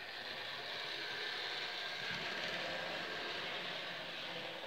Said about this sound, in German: Das ist hauptsächlich ein Fahrgeräusch von der Lok.